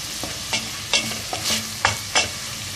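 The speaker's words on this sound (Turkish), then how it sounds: "Güzelce kavuralım malzemelerimizi." Ingredients and tomato paste stirred and sautéed in a pan for a purslane dish, giving a low continuous sizzle broken by about six short scraping stirs at a steady pace, close and moderately loud, with no talking.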